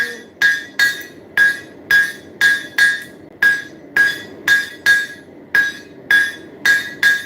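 Hammer striking hot steel on an anvil while forging horseshoe knives: loud, sharp metallic rings in a steady rhythm, about fifteen blows with short gaps, close up.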